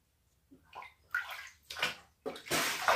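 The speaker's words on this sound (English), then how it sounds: "I'm gonna dunk my face in the water." A face plunges into a basin of ice water during an ice bath challenge, giving several short splashing, sloshing bursts separated by brief pauses, close and fairly loud.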